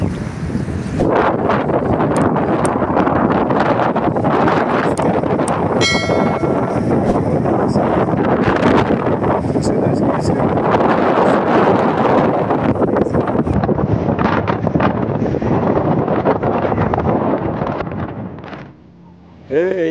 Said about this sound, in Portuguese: aqui tá ventando muito.